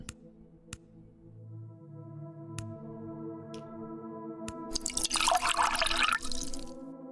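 Water drips in sparse, sharp plinks over a steady tonal hum, then a louder burst of pouring or splashing water rushes in for about a second near the end.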